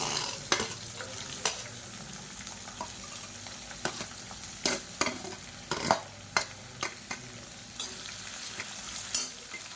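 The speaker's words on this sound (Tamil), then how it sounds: "இப்போ இதில் மீடியம் சைஸாக ஒரு பெரிய வெங்காயம் நீளமாக நறுக்குனதை சேர்த்துக்கலாம்" Onions sizzle and crackle steadily in hot oil, with sharp clinks of a spoon stirring the pan now and then; no voices.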